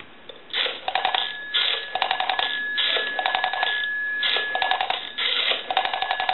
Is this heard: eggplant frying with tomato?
no